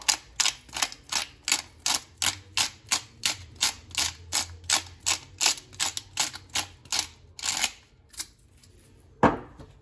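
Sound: grinding pepper coarsely with a pepper grinder

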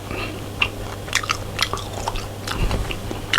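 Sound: biting and chewing a marinated Chinese meat snack

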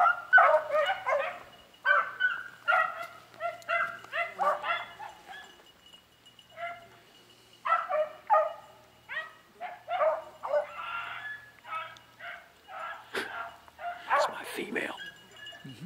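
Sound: beagles barking while running

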